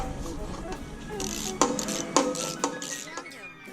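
Bolts being unscrewed from the oil pan of a Honda B series engine, with several sharp metallic clinks and ratchet-like clicks spaced across the stretch over a faint background murmur.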